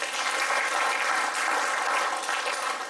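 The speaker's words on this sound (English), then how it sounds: "Give the Lord a hand clap of" A church congregation claps hands in praise during a worship service, producing dense, steady applause that holds at an even level for the whole stretch with no talking.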